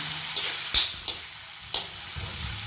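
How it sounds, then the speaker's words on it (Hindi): Thinly sliced onion frying in a pan for sambar, a steady close sizzle with a few louder stirring or crackling bursts, no talking. "प्याज को हमने ब्राउन होने तक पकाना है।"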